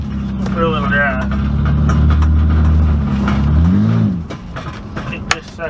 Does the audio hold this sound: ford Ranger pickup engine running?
yes